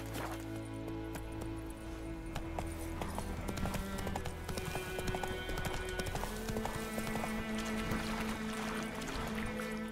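Roach, Geralt's horse in The Witcher 3, trots with a steady clip-clop of hooves that runs the whole time, fairly close, over a background of game music and ambient noise.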